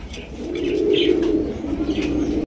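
Pigeons in a Bangladeshi fancy-pigeon sale coo in low, rolling throaty notes, close and continuous, with a few faint chirps over the top.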